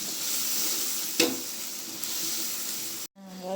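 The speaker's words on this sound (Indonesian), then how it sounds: "lalu masukin bumbu halusnya, kita tumis hingga wangi lagi" Ground spice paste sautéing in a pan gives a dense, even sizzle up close, with a sharp scrape or tap partway through, then a sudden drop into near silence at the end.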